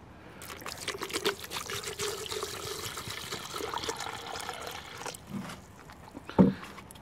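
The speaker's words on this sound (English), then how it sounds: "I'm just going to pour the acid back in." Acid is poured back over a gold nugget in a container, giving a steady trickling pour with small splashes, close and alone, ending in a sharper clink or splash.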